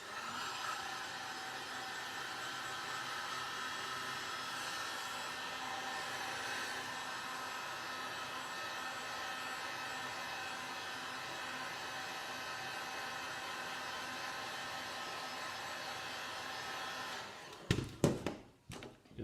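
Heat gun blowing hot air onto EVA foam for a breastplate piece, a constant close airy roar held for about seventeen seconds before it stops and a few sharp handling knocks follow.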